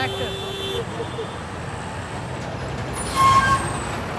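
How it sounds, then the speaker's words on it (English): A tour bus with air brakes on a busy street, engine rumble steady throughout, then a short sharp hiss of air brakes releasing near the end, with nearby voices faintly in the background. "Tourbus Yeah, tour bus."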